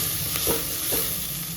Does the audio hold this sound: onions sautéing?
yes